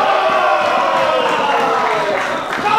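A wrestling crowd at a wXw vs CZW match cheers in a steady, loud roar that holds for a few seconds, with a commentator's voice over it.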